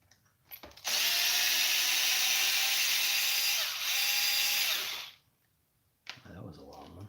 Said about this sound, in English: So I'm just going to unscrew this section of the cage.